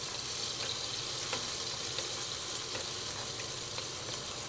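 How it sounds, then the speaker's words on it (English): Tomato, garlic and onions fry in a pan on a raised stove, a steady close sizzle with faint periodic ticks and no talking. "I let these simmer down here for about 2 or 3 minutes, for a few minutes, so that the tomato kind of start melting and the garlic start just barely cooking"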